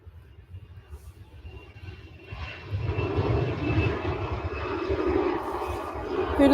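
A fixed-wing airliner passes at Manchester Airport, its engine roar building steadily from a distant rumble to a loud, broad drone.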